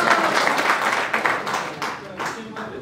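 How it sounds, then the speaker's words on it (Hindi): An audience at a Hindi-Urdu poetry recital claps in a dense, continuous patter of applause that thins slightly toward the end. "एक बार इनके लिए भी आप लोग ताली बजा दें।"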